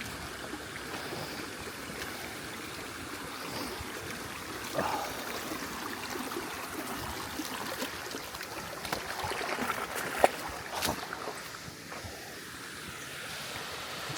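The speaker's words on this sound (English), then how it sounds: "That's where the little waterfall is." A small waterfall stream runs down a gully, a soft, steady rush and trickle of water heard from a short distance, with occasional faint knocks and footsteps.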